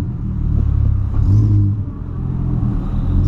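Volkswagen Polo with a straight-pipe exhaust rumbling inside a tunnel, a loud, continuous low engine drone that swells into a brief rev near the middle before settling back to a steady roar.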